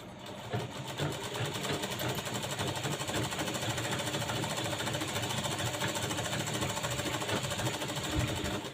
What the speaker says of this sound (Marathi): दाबटीप कुठं मारायची तर दाबटीप जे आहे ते अस्तरवरती दाबटीप मारायचे आहे